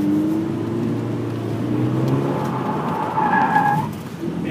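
Tyres squeal and slide as a car understeers during a BFGoodrich tyre comparison event on a track, with a loud engine drone under wavering skid tones.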